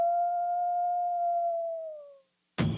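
A single long, smooth wolf howl associated with Minnesota wolves holds one steady tone for about two seconds, then slowly fades. Silence follows before a loud burst of another sound.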